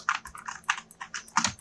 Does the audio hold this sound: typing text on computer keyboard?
yes